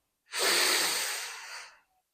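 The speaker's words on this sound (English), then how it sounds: "Inhale for 4." One slow, steady inhale during a calm breathing meditation, close and airy, lasting about a second and a half before fading into silence.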